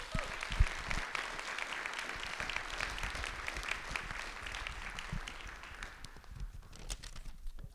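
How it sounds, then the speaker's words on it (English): Audience applause for scholarship donors at a college awards ceremony, a steady wash of clapping throughout that thins slightly near the end. "So one more round of applause to our scholarship donors."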